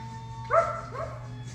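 A person imitates a dog bark with one short, voiced "woof" followed by a softer second one, during a kids' yoga class, over a steady low hum.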